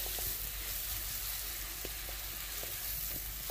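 Onion and garlic tempering sizzles in a kadai for a rohu fish curry, giving a steady, faint, continuous hiss with no talking.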